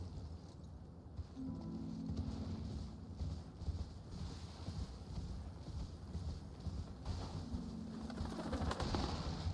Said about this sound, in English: Oh, bird noises.